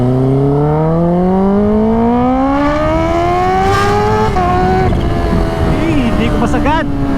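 A Kawasaki H2 motorcycle with a titanium exhaust revs loud and close, its engine note climbing steadily in pitch over several seconds, then wavering and blipping near the end over a constant rush of wind.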